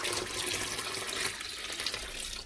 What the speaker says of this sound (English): So I'm just gonna pour my water in.